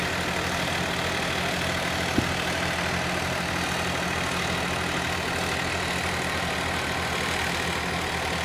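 A Massey Ferguson 7250 DI 50 HP tractor engine runs at a steady idle, a constant low diesel rumble heard close and alone with one brief knock partway through.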